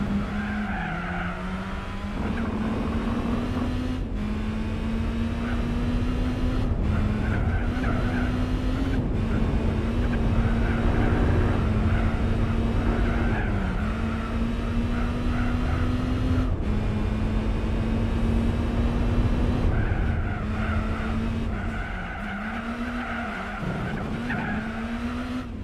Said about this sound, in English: It's really fun to drive. You know, in a VW Lupo.